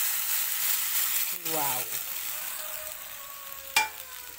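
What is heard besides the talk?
water added to frying pan, sizzling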